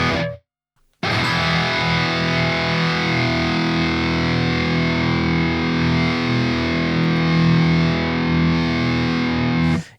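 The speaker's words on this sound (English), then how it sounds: "when you do start to turn that push knob up, it does bring on these additional overtones into your tone" An electric guitar plays through a Graphene pedal with its push knob turned up, giving a sustained distorted chord rich in overtones that rings steadily for several seconds after a brief silence.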